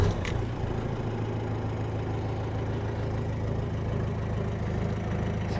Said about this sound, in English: see what it sounds like from outside, that diesel purring.